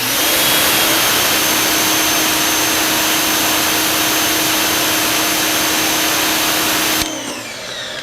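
An Active 2.0 pressure washer runs for car detailing, giving a loud, steady motor drone with a constant hum that cuts off abruptly near the end.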